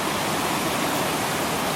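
A German waterfall gives a steady, even rush of falling water, dense and broadband with no breaks, heard close with no voices.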